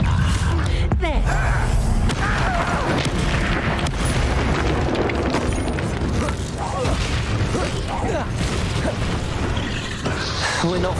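In Hogwarts Legacy, Confringo spells set off explosions that merge into a loud, continuous roar of booms and crashes with hardly a pause, close and dense throughout.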